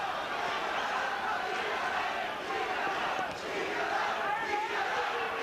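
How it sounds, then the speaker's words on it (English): A boxing crowd at the 1996 Hi Yong Choi vs Carlos Murillo championship bout roars and shouts in a dense, sustained wall of cheering, with a brief dip midway and an announcer's voice faintly mixed in. "the crowd imploring Choi to continue to fight well"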